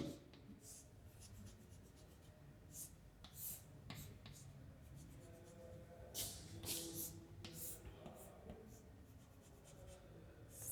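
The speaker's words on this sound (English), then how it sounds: "Let me draw a simple circuit diagram." Pen or marker scratches across paper while a simple circuit diagram of six lead-acid cells is drawn by hand, quiet close strokes and taps in irregular bursts, with faint speech in the background.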